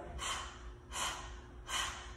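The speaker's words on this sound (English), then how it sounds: "That's Kapalabhati breathing, where you're pumping the low belly up, up on the exhale" Kapalabhati breath-of-fire yoga breathing: three sharp, forceful nasal exhales spaced about three-quarters of a second apart, close and clear with no talking.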